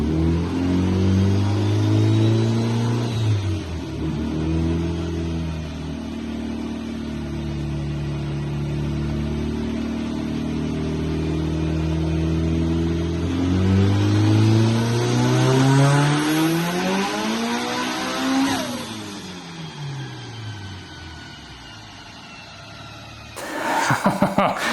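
Mitsubishi Evo IX engine revving hard through a dyno pull on a Mustang dyno, rising steadily in pitch to a loud peak, then dropping as the throttle closes, with a brief burst of noise at the end.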